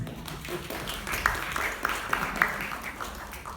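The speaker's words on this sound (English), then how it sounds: "Round of applause for" Audience applause for a volunteer at a theatre introduction, moderately loud rapid clapping from a crowd, sustained for a few seconds with a few sharper claps standing out.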